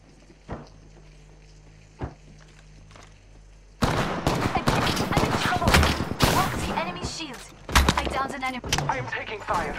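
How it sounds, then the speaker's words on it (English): Gunfire in the video game Apex Legends starts after a couple of isolated shots, then breaks into dense, rapid bursts of loud shooting that continue to the end. "I am taking fire."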